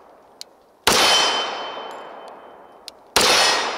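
Two loud, sharp shots from a Tisas SDS stainless pistol, each followed by a long bright ring from a steel target, with faint small ticks between them.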